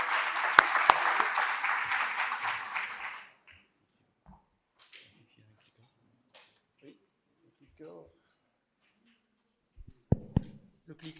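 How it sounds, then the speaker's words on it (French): A crowd claps steadily for about three seconds, then the applause dies away into quiet shuffling and a few soft clicks. "Sous vos applaudissements, s'il vous plaît."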